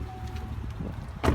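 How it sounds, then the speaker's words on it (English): A 2015 Chevrolet Camaro SS trunk pops open with a single sharp, close latch release at the very end, after a quiet stretch of low background hum. "Let me pop the trunk for you"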